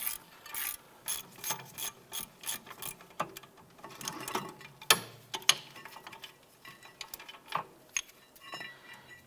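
A ratchet loosens the rear caliper bracket bolt on a 2006-2011 Cadillac DTS, giving close, crisp clicking strokes in irregular bursts with a few sharper metallic knocks in between.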